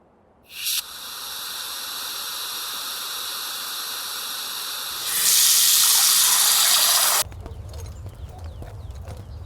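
Water gushes steadily from a tap once the flow returns after a rooftop tank valve is reopened, a broad continuous rush that swells louder midway and then cuts off abruptly.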